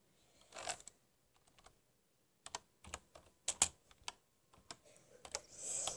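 Quick bursts of keyboard typing on a computer while entering a search on YouTube, irregular clacking keystrokes in short clusters, close and fairly quiet, with no talking.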